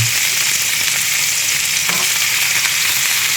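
Tilapia pan-frying in a pan, a loud, dense, continuous sizzle and crackle heard up close, steady throughout with a faint scrape near the middle.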